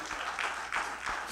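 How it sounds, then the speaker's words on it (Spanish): A church congregation applauding during a Spanish-language service, with fairly faint clapping that comes in soft rhythmic swells. "Dame un aplauso."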